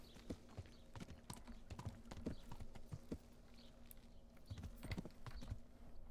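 A war horse's hooves clip-clop in a quick, uneven rhythm in the video game Kingdom Come: Deliverance, sharp clatters over a steady low background hum, with no talking.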